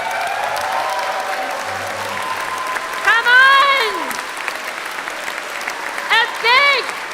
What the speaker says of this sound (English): A big applause for the GalaCon staff